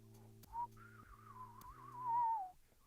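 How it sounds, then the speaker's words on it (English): Whistling sound effect: a single clear rising then wavering whistled tone over a soft repeating musical backing, no talk. "Whistling!"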